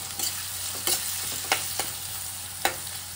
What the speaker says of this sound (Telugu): నేనైతే ఫస్ట్ ఆనియన్స్ వేస్తున్నాను. లైట్గా అవి ఫ్రై అయిన తర్వాత రెస్ట్ ఆఫ్ వెజిటబుల్స్ వేసుకోవాలి. మంచిగా వేయించుకోవాలి ఇట్లాగా.